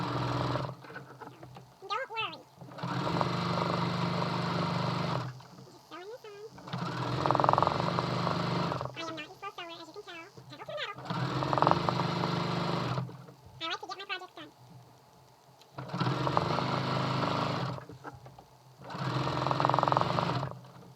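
Sewing machine stitching quilt binding on a quilt-as-you-go table runner, running in several loud bursts separated by pauses, with a voice talking in between.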